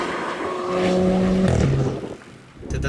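A Renault Clio RS 220 Trophy hot hatch climbs a hill, its engine note rising through the revs with a gear change partway, close and loud, then dipping before pulling again.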